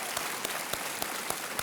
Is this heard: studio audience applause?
yes